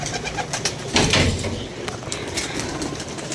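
Pigeons cooing nearby in a loft, soft repeated coos over a busy background of rustling and flutter, with one louder burst about a second in and faint voices underneath.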